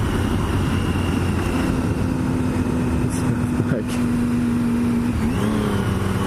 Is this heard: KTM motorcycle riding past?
yes